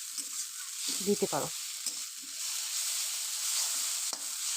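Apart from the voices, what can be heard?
stirring egg chow mein with tomato sauce in a pan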